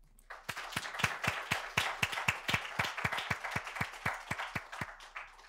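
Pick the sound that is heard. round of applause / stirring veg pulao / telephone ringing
round of applause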